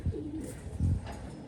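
A domestic pigeon in a loft gives two soft, low coos close by, separated by a short pause, against a quiet background.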